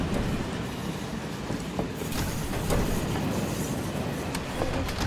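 A passenger train runs in the video game Final Fantasy VII Remake, giving a continuous rumble with wheel clatter and faint squeals, steady and fairly loud with no talk.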